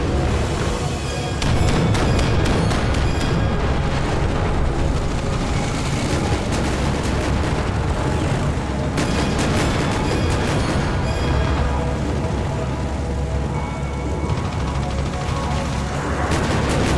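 Anti-aircraft fire aims at an enemy helicopter in the tank-battle video game Armored Brigade II, with dense, continuous booms and crackling gunfire filling the whole stretch, loud and unbroken, with sharper bursts clustering early and again midway.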